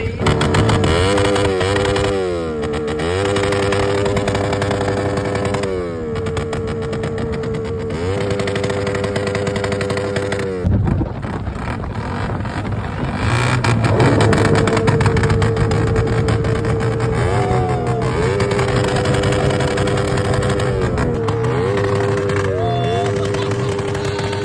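Motorcycles and cars at an impromptu roadside motor show rev hard and loud and close by, the engine pitch repeatedly climbing and falling in a continuous roar with no pause.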